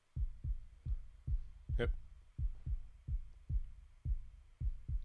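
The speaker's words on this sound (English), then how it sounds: "Almost like a heartbeat." A filtered lo-fi kick drum sample in a pre-chorus thumps in a steady, evenly spaced heartbeat-like pulse, about a dozen soft, deep beats with a brief voice interjecting once.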